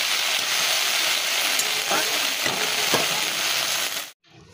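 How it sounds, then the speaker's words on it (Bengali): Sliced okra (bhindi) sizzles steadily in a pan, a dense continuous frying hiss with a few faint clicks, ending abruptly near the close. "এই যে ভেন্ডিটা কেটে ঝটপটে ভেন্ডি ভাজা বসিয়ে দিয়েছি"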